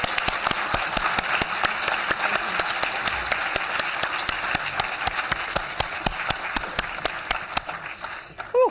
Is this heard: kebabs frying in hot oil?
no